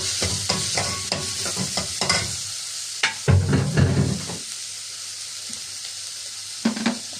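Chopped onion dropped into hot oil in a home kitchen pan, sizzling and frying with bursts of stirring and scraping, loud and close with no talking.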